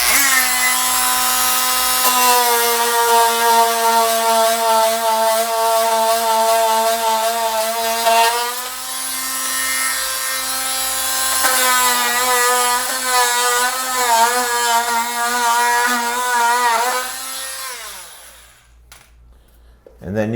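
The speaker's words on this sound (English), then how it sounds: "I use a Dremel tool because I'm a little lazy." A Dremel rotary tool whines steadily and loudly for about eighteen seconds while cutting off wooden window shims, its pitch dipping and wavering as it bites into the wood, then winding down at the end.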